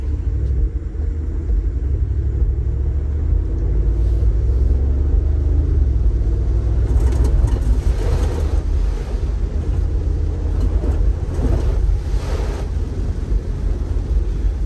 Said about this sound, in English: that V8 engine sounds amazing